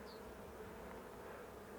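Honeybees hum around a beehive in the evening, once the foragers have returned from the fields, giving a soft, steady buzzing drone with no voices.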